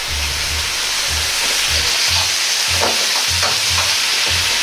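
Loud, steady sizzling and frying of cabbage and fried tofu in a hot pan, with a broad hiss and periodic low bumps as ingredients are tossed and stirred.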